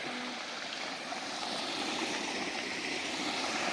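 A two-inch delivery pipe on a solar water pump runs full, water gushing out in a constant loud rushing roar with no pauses or voices.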